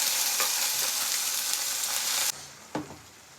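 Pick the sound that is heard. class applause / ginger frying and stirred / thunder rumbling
ginger frying and stirred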